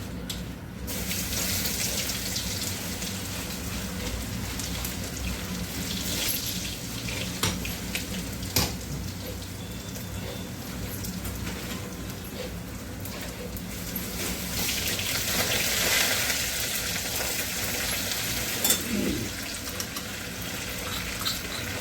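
Garlic paste frying in a pan gives a steady, hissing sizzle that runs continuously near the mic, swelling slightly louder partway through, with a few small clinks and no talking.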